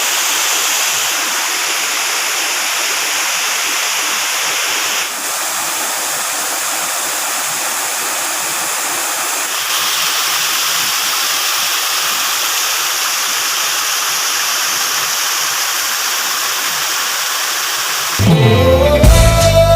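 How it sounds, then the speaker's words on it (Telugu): A constant, full roar of Katwa Waterfall near Jatprole, Kollapur, pouring nonstop, broad and steady throughout, with a brief burst of other noise near the end. "ఈ కత్వ వాటర్ ఫాల్ నాన్ స్టాప్గా ఒక ఐదు వందల సంవత్సరాల నుంచి వాటర్ ఫ్లో అవుతుందన్నమాట"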